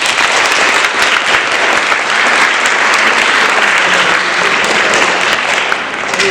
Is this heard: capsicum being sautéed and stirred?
no